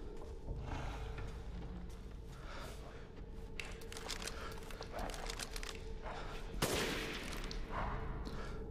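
Gunfire in the video game Resident Evil Village, with dense, busy shots and one sharper blast amid a constant background of game noise.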